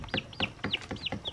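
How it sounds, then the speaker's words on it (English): Roosters and chickens cluck nearby in a quick series of four or five sharp, rising calls at a steady rhythm. "I think those are all the roosters."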